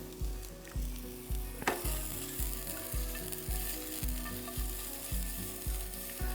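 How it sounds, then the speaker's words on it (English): Onions sizzling over high heat in a hot pan for mushroom lo mein, a constant close hiss with a regular thumping beat of background music underneath. "So in with some onions."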